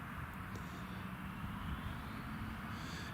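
Eurowings airplane taxiing toward the runway at Newcastle International Airport, a steady distant jet engine whine and rumble that stays even and fairly faint for the whole stretch.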